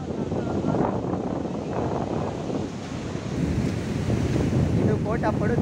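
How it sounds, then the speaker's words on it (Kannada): Sea waves breaking steadily on Kota Padukere beach near Udupi, a continuous loud surf roar with strong wind buffeting the microphone and no talk. "ಸಮುದ್ರದ ಅಲೆಗಳು ನೋಡಿ,"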